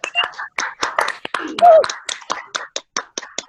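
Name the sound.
round of applause for the Toastmaster of the day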